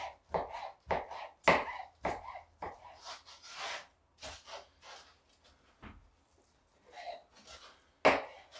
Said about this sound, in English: Just cutting this into stew beef